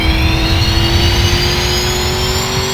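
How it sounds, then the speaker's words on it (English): A Nissan Skyline accelerating in the Ultimate Driving racing game, a loud, steady engine roar with a slowly rising pitch throughout, alone with no voices. "this thing is accelerating pretty good"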